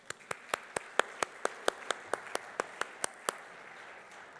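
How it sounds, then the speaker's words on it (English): One close, slow, evenly spaced set of hand claps rings out after a panel introduction at a cinema sound-system conference, about a dozen sharp claps that stop abruptly. "So let's give a round of applause for our panelists."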